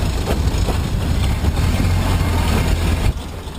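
A 1928 Ford Model A engine running while the car is driven, a steady low rumble with road and wind noise throughout, dipping slightly near the end.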